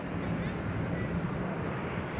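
A jet airplane rumbles past near Nashville International Airport, a broad, steady roar with a hiss of wind on the microphone, loud and sustained across a brief stretch.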